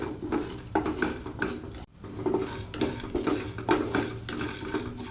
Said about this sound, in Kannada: ಅರ್ಧ ಟೀ ಸ್ಪೂನ್ ಆಗುವಷ್ಟು ಜೀರಿಗೆ. ಇವಾಗ ಇಷ್ಟನ್ನು ನಾನು ಇವಾಗ ಫ್ರೈ ಮಾಡ್ತೇನೆ.